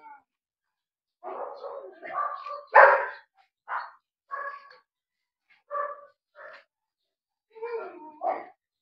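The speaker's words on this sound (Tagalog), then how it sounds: "Galit na galit yung aso." A dog at a neighbouring house barks at a cat in a series of short, scattered yaps and whimpers, some way off and fairly faint, separated by pauses.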